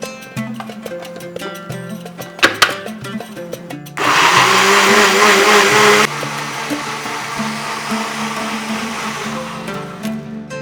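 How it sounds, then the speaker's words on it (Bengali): A kitchen mixer grinder whirs loudly as it grinds boiled poppy seeds and fennel, starting with short pulsed bursts, then running in a strong continuous burst before settling into a slightly lower steady grind. "পোস্ত আর মৌরি এমনিতে মিক্সিতে বাটতে একটু অসুবিধা হয়, এইভাবে যদি গরম জলে ফুটিয়ে নেন তাহলে কিন্তু খুব সহজেই বাটা যাবে।"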